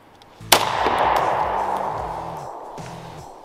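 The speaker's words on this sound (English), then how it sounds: "Let's see what a Tokarev does to Twinkies." A single sharp, loud shot from a Tokarev pistol fired at a Twinkie, its crack followed by a long booming echo that slowly dies away over several seconds outdoors.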